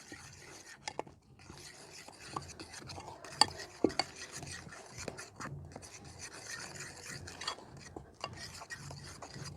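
Dalgona sugar candy mixture being stirred quickly in a small pan, soft scraping and rubbing strokes with light utensil clinks, fairly quiet and close.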